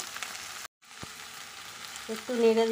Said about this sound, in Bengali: তো চলো একটু নেড়ে দিই